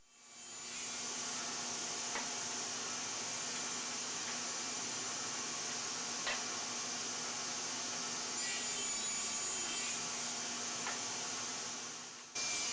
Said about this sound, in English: then I cut the pieces to final dimension on my table saw